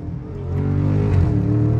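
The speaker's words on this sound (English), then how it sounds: "We gonna give y'all a little pull from second gear." A Dodge Challenger Scat Pack widebody pulls hard from second gear, its loud V8 rumble climbing steadily in pitch, heard close from inside the car.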